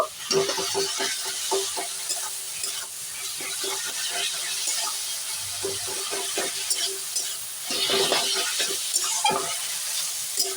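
Spring roll filling frying in a pan with a little black pepper, a low sizzle under repeated clattering stirs and scrapes of the spoon, close by, with occasional louder bursts of stirring.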